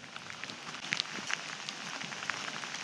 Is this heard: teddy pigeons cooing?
no